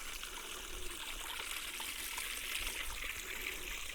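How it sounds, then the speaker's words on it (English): Mountain spring water trickles and gurgles steadily up high on a muddy Catskills trail, a soft continuous flow close by with no voices. "Nice that there's a spring this far up."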